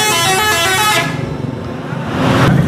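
Rosali Indah bus blasting a loud multi-tone melodic horn for about a second, followed by traffic rumble and a second noisy horn burst at the end.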